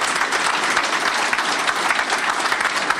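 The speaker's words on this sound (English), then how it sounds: "Here's an applause." Audience applause at a Google announcement event in Ohio: a dense, steady burst of clapping from a crowd, fairly close and continuous for about three seconds with no talking over it.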